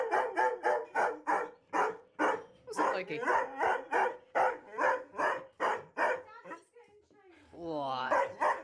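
Loki the dog in the Frog Detective video game barks loudly in a rapid, regular series of sharp yaps, pausing briefly before a final whining yelp, with a voice speaking over the start.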